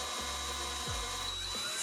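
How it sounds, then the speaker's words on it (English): A power drill bores a mounting screw hole during a wall-mounted PC build, its motor whining up in a few short pulses close to the microphone, with no voices. "I established the position for the mounting screw and drilled a hole."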